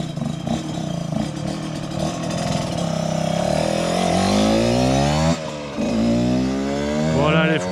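A Yamaha DTX 125 motorcycle with a rebuilt engine, new clutch and Ignitech ignition runs on a test, its loud two-stroke engine revving up and down in rising and falling sweeps, dipping briefly before climbing again.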